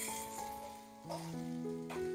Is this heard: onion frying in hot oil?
yes